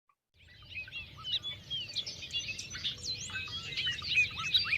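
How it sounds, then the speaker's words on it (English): Bobolinks call in a grassland, a bubbly jumble of high metallic chirps and warbles that starts after a brief silence and keeps going, several birds overlapping at moderate distance over a low rumble. "And then now for the bobolink's call."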